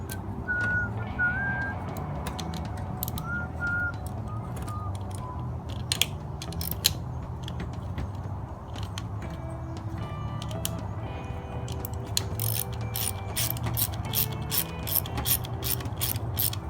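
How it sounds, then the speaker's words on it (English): A ratchet wrench tightens the bolts holding down a replacement fuel pump, producing steady runs of rapid clicking near the mic, with pauses and faint whistling in between. "After we secure this guy down, we'll be done"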